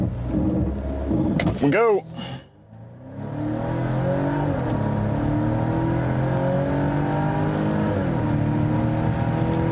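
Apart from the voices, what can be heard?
2023 Volvo V60 Cross Country accelerating from brake-torque launch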